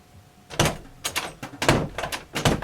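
A bathroom door in a camper is worked several times, giving a series of close, sharp knocks and clicks at an irregular rhythm, each one brief and fairly loud.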